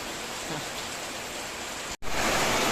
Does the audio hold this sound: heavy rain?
yes